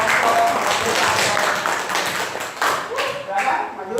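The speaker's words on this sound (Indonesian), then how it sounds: "Tepuk tangan untuk kelompok." A classroom of students applauds a presenting group, brisk overlapping clapping filling the room for several seconds with talking mixed in.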